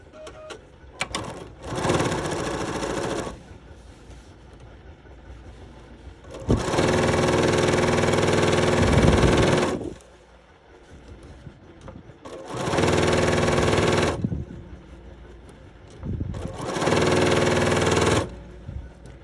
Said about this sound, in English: now I'm going to sew another piece onto the opposite end of this block